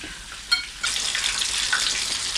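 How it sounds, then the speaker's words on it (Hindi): Chicken pieces fry in hot oil with a bright, steady sizzle that swells after a brief clink and carries on close and continuous, with no talk. "ये देखें माशाल्लाह कितने प्यारे फ्राई हो रहे हुए हैं"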